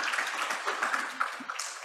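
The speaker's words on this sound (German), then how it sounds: "Ja, Applaus dazu." Audience applause after a point made during a lecture and discussion on equality, a moderate, uneven clatter of clapping hands heard throughout.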